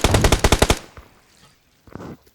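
Rapid automatic weapon fire in PUBG Mobile on the Livik map, a tight burst of about eight sharp close shots, then near silence before a shorter, fainter burst of a few shots.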